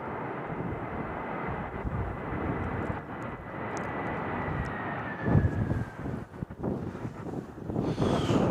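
A DHL cargo airplane lands at Cincinnati/Northern Kentucky airport (CVG) on a cold, windy day. Its engines give a broad, continuous roar with a slowly falling whine. Heavy wind buffets the microphone throughout, and no one speaks.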